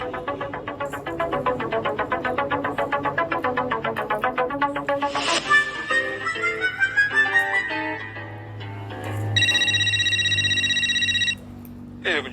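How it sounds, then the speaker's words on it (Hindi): A telephone rings in a repeating electronic melodic pattern, then shifts to other tones including a steady high beeping, fairly loud and close, with some background sound beneath. "ये देखो जेठालाल का फोन।"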